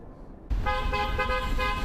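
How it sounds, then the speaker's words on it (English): A car horn honks in a long, steady blast after a brief quiet start, with street traffic rumbling underneath, outside the Ukrainian embassy. "Horns honking."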